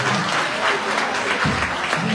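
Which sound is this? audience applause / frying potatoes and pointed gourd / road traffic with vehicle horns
audience applause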